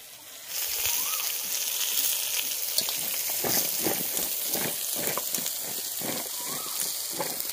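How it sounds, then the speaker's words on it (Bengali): Eggplant pieces fry in oil in a pan, a steady loud sizzle and crackle starting abruptly and holding constant, with faint stirring beneath, close by and without talk. "বেগুনগুলোকে হালকা করে ভেজে নেবো একটু।"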